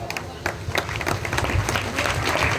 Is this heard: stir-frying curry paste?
no